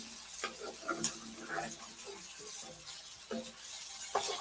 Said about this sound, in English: You want to try to stir your onions around so they won't burn.